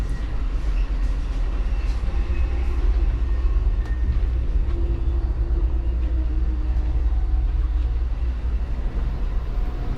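Amtrak's Coast Starlight rumbles steadily in its vestibule between San Francisco and Los Angeles, a loud continuous low roar with faint rattles and track clatter throughout.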